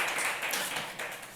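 A conference audience applauds as a session closes, a brief, dense patter of clapping at moderate loudness with no voices over it.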